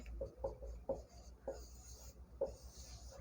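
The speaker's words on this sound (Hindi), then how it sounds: "तो ये थोड़ा छोटा लिखती हूँ ताकि एक इसमें आ जाए" Marker or chalk writing on a board, a series of short, faint strokes and taps in an uneven rhythm, close and quiet.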